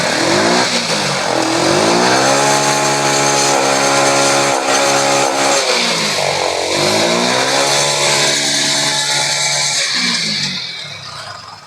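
A TVS XL100 BS6 moped with a stalling and starting problem revs hard under throttle, its engine note rising and falling in sustained, loud, close sweeps before easing off at the end, with no voices.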